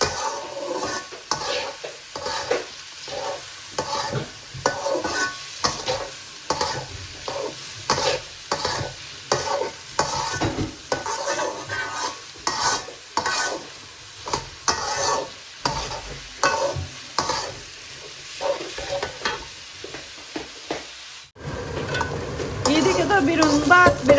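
Sylheti sticky rice fried with plenty of onions in a pan, rhythmic repeated stirring strokes scraping over a sizzling bed for most of the time, ending with a denser, louder sizzle.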